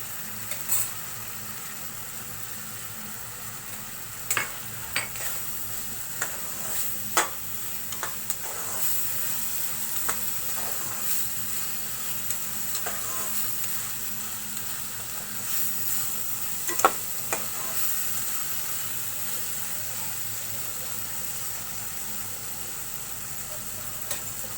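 Red lentils are stirred and fried in spice paste, with a soft continuous sizzle and repeated scraping clicks of a spoon against the pan at an irregular pace throughout; no voices.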